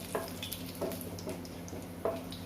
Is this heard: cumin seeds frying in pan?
yes